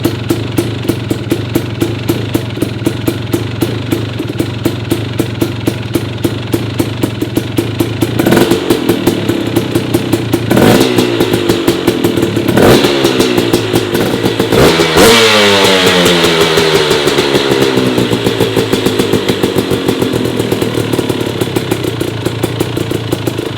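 KTM dirt bike with a Lectron carburetor running after its first start, a loud, steady popping idle close by with several sharp revs climbing and falling in pitch midway, no voices.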